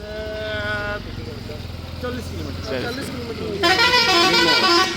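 A bus on a road sounds its horn in sustained honks, first a long tone and then a louder, brighter blast near the end, with engine rumble and people talking nearby.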